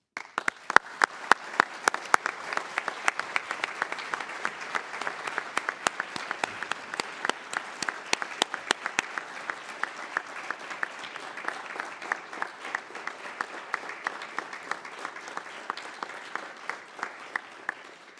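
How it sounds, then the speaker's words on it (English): Sustained applause from the audience at a U.S. Army ROTC commissioning ceremony for new second lieutenants, many hands clapping with sharp individual claps standing out over a steady patter, moderately distant and continuing for a long stretch. "Please give them a round of applause."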